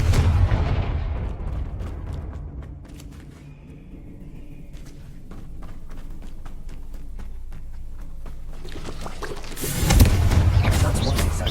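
Confringo fire spell blasting in Hogwarts Legacy, booming explosive bursts with a big impact near the end, amid game sounds and scattered thuds.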